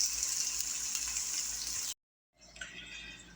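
A string-tied pot roast sizzles loudly as it browns in a pan, a steady close hiss that cuts out briefly and then resumes.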